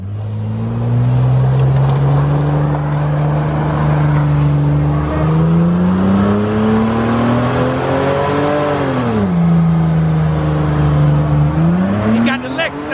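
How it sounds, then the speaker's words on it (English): A Lexus car revs hard at a truck and car burnout show, its engine droning loudly and rising and falling in pitch through repeated throttle pushes, with people talking over it nearby. "He got the Lexus out here."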